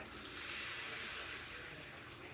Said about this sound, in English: I'm going to add some water because it's still thick.